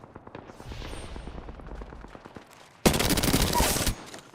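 Automatic weapon fire in the video game Apex Legends, played as Mirage: a rapid stream of close shots, then a louder, denser burst lasting about a second.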